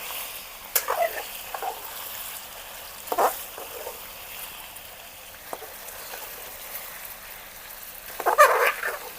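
Ginger paste cooks in a pan for a village-style chicken kaju masala curry, with a faint low sizzle broken by a few brief scraping stirs spaced seconds apart.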